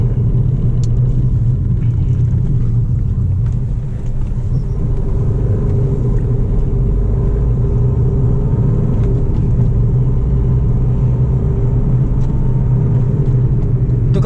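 Honda Amaze Diesel car being driven, a steady low engine rumble and road drone from inside the cabin, constant and fairly loud with a slight dip in the middle.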